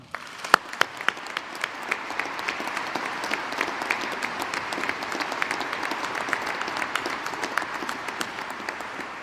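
A large crowd at a university presidential inauguration gives a sustained round of applause for a student and faculty musician, dense clapping with sharp individual claps standing out, steady in loudness throughout.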